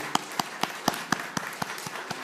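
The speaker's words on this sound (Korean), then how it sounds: "한번 편해서 일어나실 수 있으면 일어나시고 안 그러면 우리 박수로 환영하겠습니다" A church congregation claps together to welcome newcomers, producing a steady run of about nine evenly spaced, crisp claps in unison at a moderate volume.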